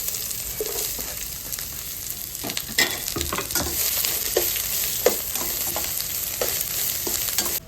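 Dried chillies, garlic, ginger and onion fry in a pan for a buttermilk curry, a steady close hiss of sizzling oil with repeated light scraping and tapping as the mix is stirred.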